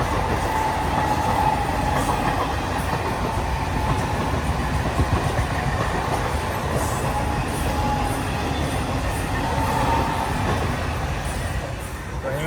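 A Mumbai local train rumbles past steadily for the whole stretch, with a continuous dense roar and faint rhythmic clatter of wheels on rails.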